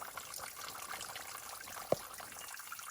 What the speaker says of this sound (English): found this super cool waterfall. It's really small, but it's unbelievably cool.